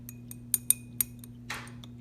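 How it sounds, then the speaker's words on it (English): A stir stick clinks several times against a glass lab beaker while dissolving a solid potassium compound in water, a few sharp separate taps followed by a short soft swirl, near and quiet. "You're going to use the stir stick here to dissolve the solid."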